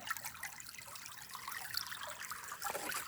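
Water slowly draining off gold prospecting sluice mats outdoors, a steady soft trickle and dribble running the whole time, with brief splashy bursts near the end and no voices.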